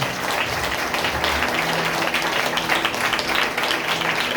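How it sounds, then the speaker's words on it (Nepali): Congregation at a church prayer service clapping hands together, a dense, steady wash of applause that fills the whole stretch at close range with no pauses. "ताली बजाएर यसलाई धन्यवाद दिन्छु"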